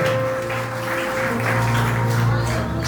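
A church congregation claps while seated, praising the word of God, with a continuous wash of applause mixed with a sustained organ-like tone and murmuring voices underneath.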